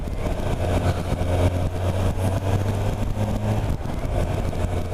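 Kawasaki motorcycle engine heard while riding, a steady, fairly loud mid-pitched engine hum with intake noise, continuous and alone without talk.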